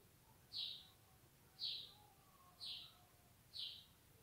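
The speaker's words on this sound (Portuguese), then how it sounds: "Vocês estão ouvindo os passarinhos?" A small bird outdoors repeats a short high chirp four times at an even, roughly one-second pace, moderately distant over a faint background hiss.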